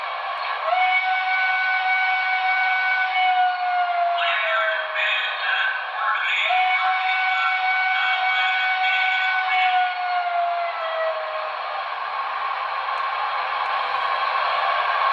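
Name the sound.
model steam locomotive secondary whistle, Broadway Limited PRR Q2 Duplex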